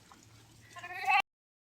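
A sheep in hot summer grazing country gives a single rising bleat that swells louder toward the end and cuts off abruptly.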